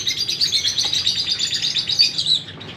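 Pet Java sparrows in a cage chirp rapidly and repeatedly, close and clear, with a busy stream of overlapping tweets.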